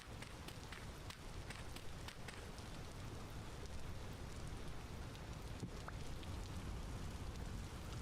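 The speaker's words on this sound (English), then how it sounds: "I love the sound of that rain so very much." Steady, even rainfall in the video game Vintage Story: a continuous soft wash of dense drops, fairly quiet and unchanging throughout, with no other distinct sounds.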